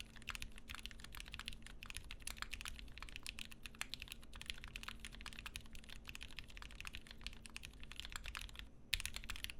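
Soft, rapid typing on a Wilba.Tech Thermal+ keyboard with Gateron Black Ink switches, a dense patter of muted, close keystrokes at low volume, continuous apart from a brief pause near the end.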